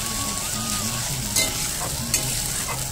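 Sliced onion frying in oil with ginger garlic paste just added, a steady loud sizzle with occasional scraping stirs of the spatula against the pan, no talk.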